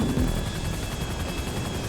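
A helicopter in a GTA 5 Online race drones steadily throughout, a constant rotor and engine roar with no talk over it.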